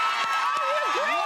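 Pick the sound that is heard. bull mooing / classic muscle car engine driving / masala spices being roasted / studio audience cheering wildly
studio audience cheering wildly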